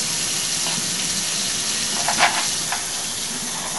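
Tap water runs steadily into a sink as dal lentils are rinsed, a continuous hiss with a few brief splashes from handling the grains and no talking.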